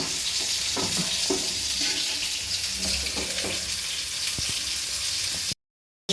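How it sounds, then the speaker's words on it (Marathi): Mushrooms coated in semolina (rava) fry in hot oil with a steady, moderately loud sizzle and crackle close by, then cut off abruptly just before the end. "सगळ्यात मशरूम रवा फ्राय केले"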